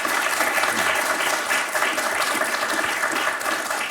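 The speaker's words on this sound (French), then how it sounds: "et ça s'applaudit, ça." Studio audience on a television quiz show applauding, a loud, close, continuous burst of many people clapping with a steady rhythmic texture.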